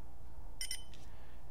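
Two quick electronic beeps from the game timer on the OLED circuit board of an Empire Axe paintball marker, with a softer third beep just after. All are short and high-pitched against a quiet background.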